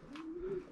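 Young racing pigeons coo in a single soft, rising-and-falling call lasting under a second, close by, with no talk over it.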